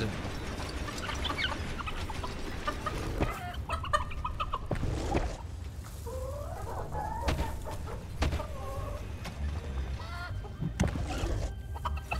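Chicken cannons in the Dungeons 4 strategy game produce several bursts of clucking and crowing amid busy game sound effects and impacts, with no talk.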